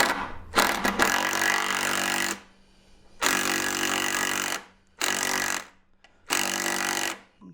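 A power tool tapping threads in pilot holes for lag screws while fitting a Noden Craftsman hardware base runs in four loud sustained bursts of a few seconds each, with short quiet pauses between them.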